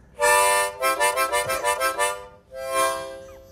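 Harmonica wailing in a loud, close burst: a long held chord, a rapid pulsing run of tremolo notes, then a final swelling chord that fades out.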